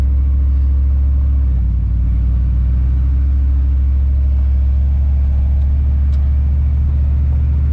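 An old car's engine runs while driving: a loud, steady, low rumble with a continuous drone that holds evenly from start to finish, with no voices.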